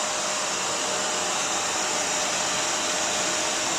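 A bagless vacuum cleaner runs at full suction, a dense, even rushing whoosh of air and motor that stays loud and unchanging throughout, with no speech.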